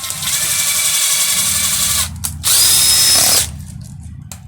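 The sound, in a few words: drill driving a 3-inch screw through the center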